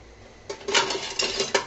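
A cooking pot holding taro leaf greens is set onto a stove, giving a few short metallic clanks and scrapes close by, with no voices.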